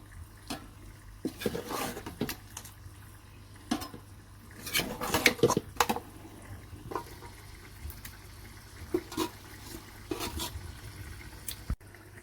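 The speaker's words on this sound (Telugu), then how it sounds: "ఇప్పుడు చికెన్ మంచిగా లేయర్ వేసుకున్నాను" Scattered clinks of metal and soft thuds as chicken pieces are layered into a biryani cooking pot, with a few louder knocks midway and no talking.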